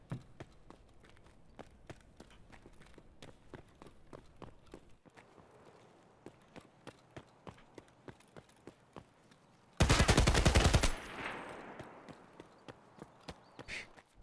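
SA-58 rifle fire in the Escape From Tarkov shooter, a loud dense burst of rapid shots that breaks out late, after a long run of soft, regular in-game footsteps.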